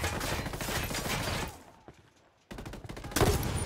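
Grenade launcher firing in Ghost Recon Wildlands, a dense burst of loud blasts and gunfire that drops away into quiet before another loud volley erupts.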